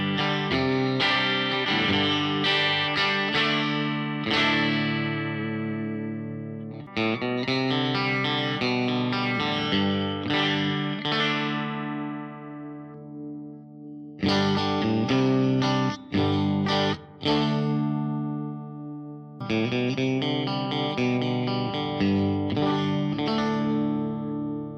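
Squier Stratocaster electric guitar with chorus and distortion effects playing chords and melodic runs in several bursts separated by brief pauses, loud and upfront.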